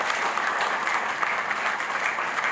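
Conference attendees at the Mining Indaba applaud, a brief, even spell of many hands clapping at moderate volume with no voices audible.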